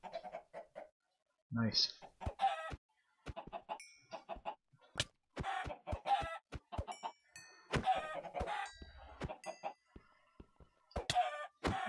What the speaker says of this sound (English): Oh yeah, that chicken's angry.